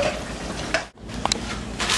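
Lobster sauce with wine, onion and garlic cooking in a pan, a steady sizzle and bubbling with a brief stir and a couple of light utensil clicks, close and moderately loud.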